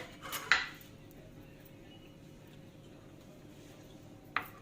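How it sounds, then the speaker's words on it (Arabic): A metal cooking pot of slow-cooked fava beans clanks sharply as it is lifted, one bright knock at the start and another near the end, with quiet kitchen air between and no talking. "ارفع الحلة"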